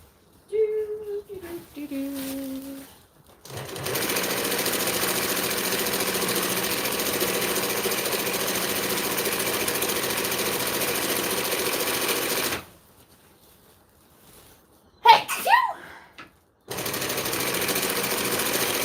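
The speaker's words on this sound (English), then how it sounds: "I also have to keep an eye on the stitching so that the bobbin doesn't run" An industrial sewing machine stitches heavy shade sail fabric in a long steady run of loud, continuous whirring, stopping and restarting once, with brief pauses where the fabric is handled and a short voice near the start.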